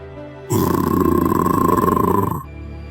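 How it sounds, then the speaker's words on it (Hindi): A deep, rumbling, angry lion roar from an animated cartoon, in its cave, swells in suddenly and holds loud and steady for about two seconds before cutting off. "शेर अपनी गुफा में गुस्से से गुर्राया।"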